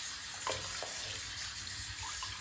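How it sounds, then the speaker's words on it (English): Warm tap water runs steadily into a sink over a wig being rinsed, a soft continuous hiss with a few faint splashes and drips. "run some nice warm water through the entire wig"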